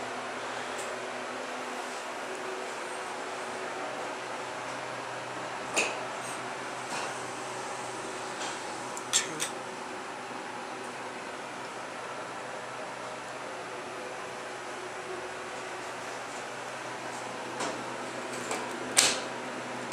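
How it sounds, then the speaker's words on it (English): A ThyssenKrupp Impulse hydraulic elevator from the early 2000s running inside the cab, a steady low hum and airy hiss with a few faint clicks and ticks scattered through, no talking. "just a basic ThyssenKrupp elevator from the early 2000s."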